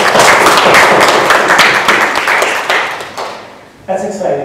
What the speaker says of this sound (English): we need to give God a great big hand clap of praise